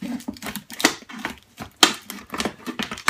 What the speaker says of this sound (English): just take your scissors and cut into the rib again